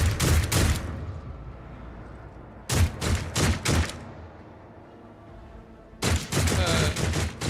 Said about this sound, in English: They're shooting at him.